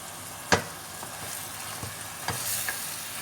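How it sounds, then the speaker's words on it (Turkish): Ground meat fries with peppers and onion in a pan for menemen, a steady sizzle broken by a few sharp spoon-against-pan clacks as it is stirred, with no voices. "Dedim kıymayı da şimdi karıştırıyorum."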